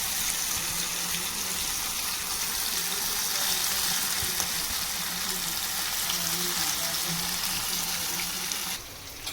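Pieces of fish frying in hot oil, a loud continuous sizzle and crackle that holds steady throughout and drops away abruptly just before the end, with no talking.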